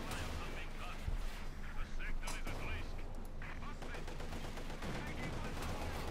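Rapid gunfire from the World War II strategy game Company of Heroes 2, a light tank's 37mm gun and small arms crackling in dense bursts with booming artillery thuds underneath, running steadily throughout.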